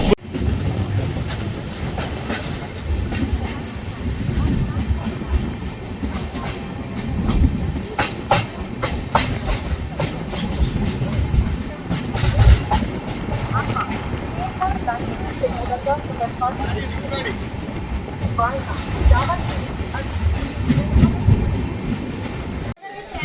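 The Siddaganga Superfast Express, running from Dharwad to Bengaluru with new LHB coaches, rumbles steadily from inside with rhythmic wheel clatter on the rails throughout, while people talk over it.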